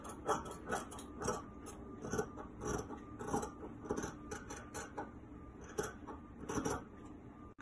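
Fabric being cut along a back bodice neckline with scissors, a steady series of close, crisp snips and soft crunching blade closes repeating through the stretch.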